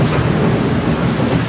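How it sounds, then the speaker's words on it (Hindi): Heavy monsoon rain pours down at Sindhudurg Fort beach during a thunderstorm, a dense, loud and continuous roar of rainfall with a deep rumbling underneath. "इतनी बारिश है कि आगे कुछ भी नहीं दिख रहा है।"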